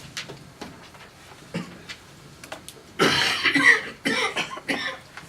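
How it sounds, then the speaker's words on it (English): Several coughs close by at a neighborhood commission meeting, starting as scattered short hacks and then building into a louder cluster of harsh, repeated coughing fits. "We're all coughing and carrying on."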